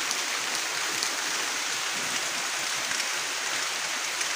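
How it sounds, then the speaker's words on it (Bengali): Steady rain falls in a dense, even hiss with no break, no voices and no other sounds. "বৃষ্টি হইতেছে তো"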